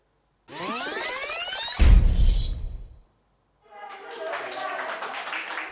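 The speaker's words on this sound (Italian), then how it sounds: "L'applauso all'arrivo delle prime dosi" Health workers clap at the arrival of the first Covid vaccine doses on Vax Day; after an opening stretch of other sound, a low thump and a short pause, a brisk patter of many hands takes over, moderately loud.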